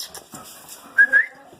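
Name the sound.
dog whimpering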